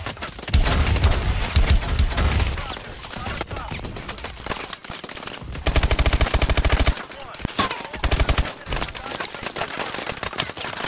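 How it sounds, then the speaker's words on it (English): Call of Duty Advanced Warfare campaign battle against mechs, loud, near, sustained machine-gun fire in rapid rattling bursts, the densest stretch around the middle, with brief pauses between volleys. "What's shooting so much?"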